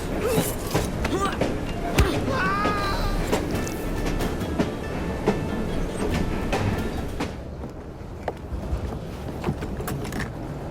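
Train in the game Assassin's Creed Syndicate rumbles and clatters steadily, with metallic squeals and clanks over a dense rolling noise that thins out toward the end.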